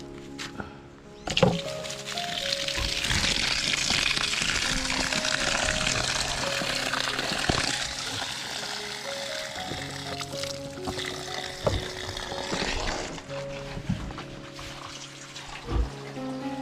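Water splashes and runs steadily as it is poured into a container to give a pig a drink, fairly close, with occasional clunks and thumps throughout.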